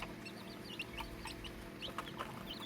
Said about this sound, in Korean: 세상에서 가장 작은 닭이죠.